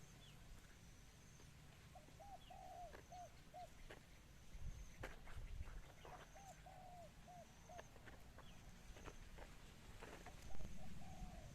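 A large dove coos in soft, repeated phrases, returning three times over a quiet outdoor background with faint chirps and rustles.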